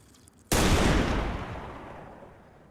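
A single loud gunshot from an HT rifle in the DayZ video game cracks at close range, its sharp onset giving way to a long, slowly fading reverberant tail.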